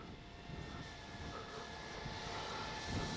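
Flightline F4U Corsair RC model warbird making a slow landing run with flaps down, a steady droning engine hum at moderate distance that swells slightly toward the end, with no talking.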